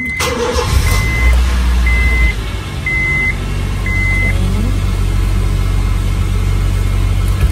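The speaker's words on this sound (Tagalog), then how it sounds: "Tapos, papaanda rin po natin yung sasakyan." A car engine cranks and starts, then settles into a loud, steady low idle, while a series of evenly spaced electronic beeps sounds over the first few seconds.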